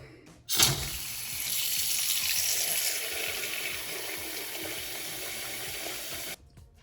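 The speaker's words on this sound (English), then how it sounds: "we're gonna go ahead and turn the water on and make sure we got that." Bathroom faucet runs steadily into a sink as it fills, a broadband water rush that starts abruptly after a brief pause and continues alone at a fairly loud, even level before cutting off near the end.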